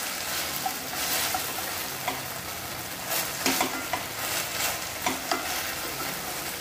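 Okra and tomato chutney cooking in a pan while being stirred, a constant bright sizzle with scattered spatula scrapes and taps, close and continuous with no talk.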